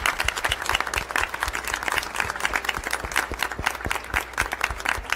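A crowd at a school board meeting claps steadily in sustained, dense applause, filling the room from start to finish.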